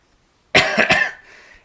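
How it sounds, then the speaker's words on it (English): A single close, harsh lingering cough from someone recovering from a cold, a burst with two or three quick pulses, fading into a brief breathy tail, otherwise quiet. "I'm still having a lingering cough"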